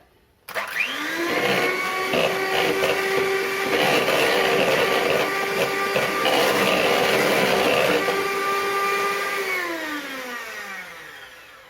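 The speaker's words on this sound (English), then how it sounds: "We're then going to get the mixer again, and we're going to whisk these together" Electric hand mixer whisking a cake mixture in a home kitchen, a steady close motor whine with a slight pitch drop as it winds down at the end; no talking.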